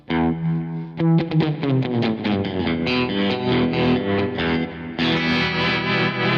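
Electric guitar notes and chords through a Kemper Profiler ringing out with a spacious reverb tail, played alone and fairly loud.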